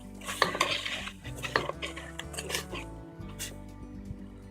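A spoon stirs sugar into boiled milk in a metal pot over a medium flame, with repeated clinks and scrapes against the pot and a soft simmering hiss underneath.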